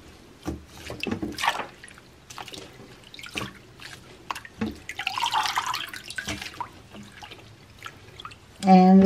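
Garlic scapes being soaked and washed in cold water in a sink, with intermittent splashing and dripping under frequent talk and a louder burst of running water at the end.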